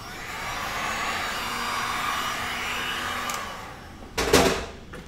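A heat gun blows a steady broadband hiss over a colour-over-tint resin ocean artwork, fading slightly near the end before a short louder burst of handling noise.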